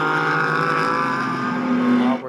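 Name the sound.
race cars racing at Sonoma, Porsche Cayman and Aston Martins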